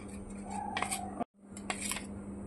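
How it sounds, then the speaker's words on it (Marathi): A spoon scrapes and clinks against a bowl while veg burger patty mixture is mixed with a spoonful of oil, two bursts of clatter separated by a brief silent gap, close and alone. "तेल घातल्यानंतर हे मिक्स करून घ्यायचं आहे"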